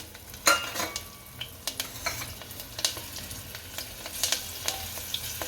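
Chilies and garam masala sizzle and fry in a pan for a Gujarati chana batata shaak, with a steady hiss broken by frequent sharp clinks and scrapes of a stirring spoon against the pan.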